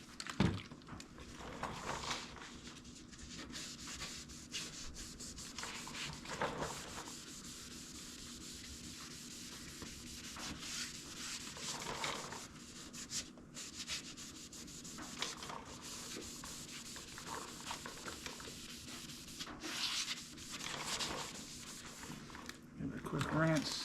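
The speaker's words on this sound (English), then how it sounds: "There's that sanding pad." A sanding pad rubs steadily over a wet, beading surface in a continuous rasping, scrubbing sound with faint rhythmic strokes, close by and fairly quiet, while a voice talks over it.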